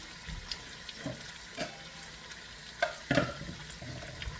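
Onions sautéing in a pan for beef stew, a soft, faint sizzle with occasional stirring clatters and scrapes, no voices.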